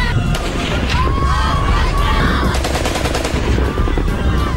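Gunfire from burqa-clad women firing weapons during training in Iraq: dense, loud, rapid bursts of automatic shots with overlapping cracks, heard alongside voices.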